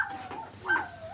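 Dogs bark excitedly in a couple of short, sharp, yelping bursts, fairly close, with no other voices.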